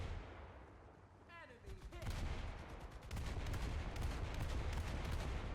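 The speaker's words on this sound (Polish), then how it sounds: "To działko tak śmiesznie strzela?" Autocannon on a vehicle in the War Thunder video game firing in rapid, evenly spaced bursts that start after a brief rising whine and continue steadily, loud and close, with a dense rumbling bed beneath.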